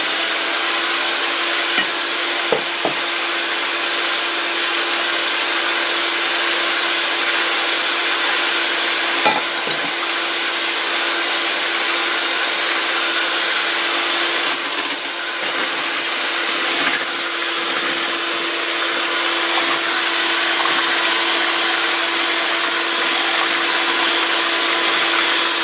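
An electric mixer running on speed 2 for a light whisk of chocolate cake ingredients in a bowl, a loud, steady motor whir that continues alone for the whole stretch with small bumps.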